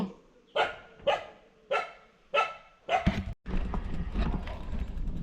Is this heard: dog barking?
yes